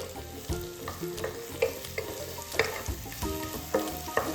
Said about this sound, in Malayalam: ഇനി നമ്മൾ ഉള്ളിയാണ് വഴറ്റായിട്ടുള്ളത്.